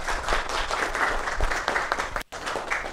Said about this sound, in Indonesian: Tepuk tangan semua yuk.